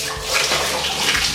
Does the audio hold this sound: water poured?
yes